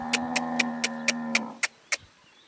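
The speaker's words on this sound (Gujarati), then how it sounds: "જો શાંતિથી આપણે ગયો ત્યારે નિરણ ખાઈ રહી છે" A cow lows with a long, drawn-out moo while feeding on fodder, then trails off as several sharp rhythmic clicks or knocks continue close by.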